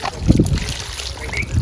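Water tipped from a mug onto brickwork at a house construction site, landing in a short splashing burst up close, followed by a softer trickle.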